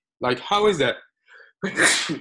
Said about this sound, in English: the sneeze already interrupted me